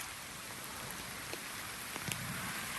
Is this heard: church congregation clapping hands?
no